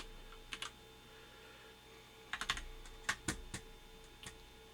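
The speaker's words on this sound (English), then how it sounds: "I'm going to put a new password in" Keys tapped on a computer keyboard while a new account password is entered, heard as a few short clustered bursts of clicks with pauses between, fairly quiet over a faint steady background hum.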